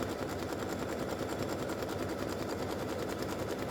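A sewing machine satin stitches across the top of an appliqué, a continuous fast whirring needle drive running steadily and fairly close with no pauses.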